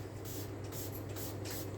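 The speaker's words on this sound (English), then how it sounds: "You want to spray?" A spray bottle mists an African grey parrot in a series of about five short hissing spritzes, quiet and close over a low steady hum.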